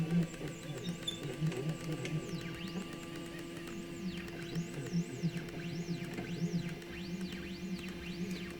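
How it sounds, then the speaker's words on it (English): A 3018 Pro CNC machine jogs its spindle to a position, with stepper motors whining in rising and falling sweeps over a steady electrical hum, continuous and fairly quiet. "I'm going to jog the machine over to that spot."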